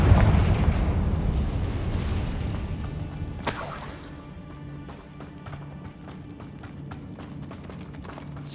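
A Confringo spell blast in Hogwarts Legacy, a loud sustained rumbling roar with a sharp crackling burst partway through, followed by scattered debris clatter and pops that fade into a lower ambient rumble.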